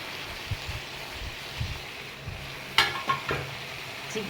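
Chicken sizzling and frying in a pan with whole garlic and tomato, a steady hiss broken by a few stirring scrapes and clatters near the end, close and moderately loud.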